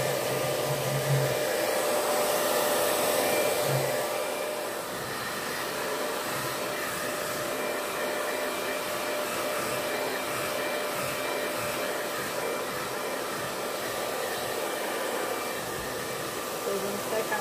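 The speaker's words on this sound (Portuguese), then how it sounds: "eu vou usar secador para ver se eu concluo logo uma" A hair dryer drying paint on a bottle blows with a constant whooshing hum, slightly louder at first, then steady throughout.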